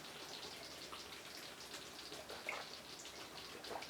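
Light rain falling outdoors over an area where boundary fencing is being repaired, a faint steady hiss with scattered soft drop ticks, distant and low in level, no voices.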